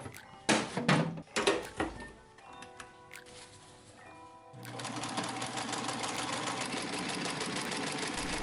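A sewing machine quilting sailcloth with muslin panels: a few short bursts of stitching with clunks and pauses, then a steady, fast continuous whir of stitching running to the end.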